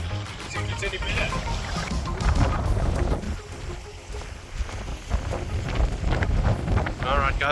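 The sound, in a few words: strong wind on rocky beach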